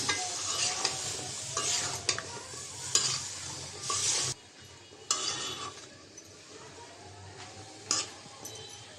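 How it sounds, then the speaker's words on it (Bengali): Potato, pointed gourd and spiny gourd with spices are stir-fried in a pan with small shrimp. A soft sizzle runs under repeated metal-spatula scrapes and clinks, louder in the first half, then quieter with occasional strokes. "সবজিটাও একটু কষাই নিব।"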